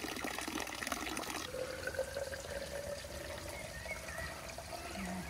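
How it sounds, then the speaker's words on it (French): Cool water from a mountain fountain pours into a water bottle and a flask on a hot day, a steady outdoor splash whose pitch rises faintly as the container fills, heard close and alone. "On va remplir et la gourde et la flasque parce qu'il fait chaud."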